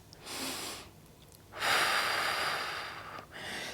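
Heavy workout cool-down breathing, a short inhale followed by a longer, louder breathy exhale and another shorter breath, close and alone with no talk.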